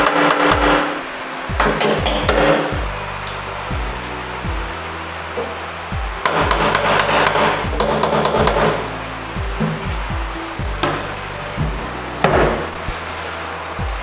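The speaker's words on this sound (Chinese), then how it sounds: "我们拿这个锤子还有一个钉这样子来做 marking 啦，我们要敲在这个砖上面。" A hammer strikes a nail against a brick wall to mark drilling holes while installing a cabinet basin, giving repeated sharp metallic taps in irregular bursts, close and loud, with brief pauses between clusters.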